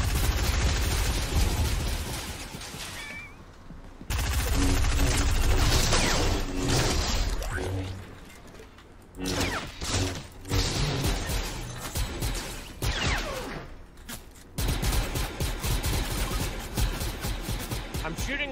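Loud rapid bursts of stormtrooper-style gunfire rattle in long sustained volleys, broken by short pauses and crashing impacts.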